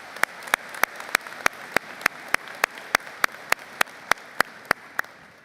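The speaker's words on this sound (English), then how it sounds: "Let's give a round of applause for the UWSP leadership team." Applause for a university leadership team at a spring commencement ceremony comes through as crisp, evenly spaced claps, about three per second, sounding close and moderately loud over a faint background.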